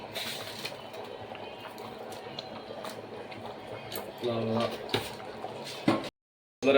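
Water bubbles and hisses at a steady boil in a pot with salt added, with a few sharp clicks and clatters and a voice speaking over it.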